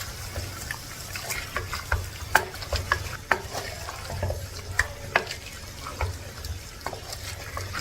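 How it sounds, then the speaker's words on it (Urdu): Ginger, garlic and green chili paste is stirred into beef frying in a pot, with a constant sizzle under repeated scraping and clinking strokes of a spoon, close and steady, with no talking. "اب ہم نے اس کو بھی مکس کر لینا ہے اس میں"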